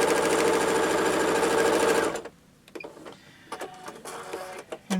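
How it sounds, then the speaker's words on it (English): Sewing machine stitching a long red fabric strip onto a quilt block, running in a steady rapid loud whir for about two seconds, then stopping; quiet handling clicks and rustles follow. "the first red piece, and I know it's long, I'm just going to sew it on"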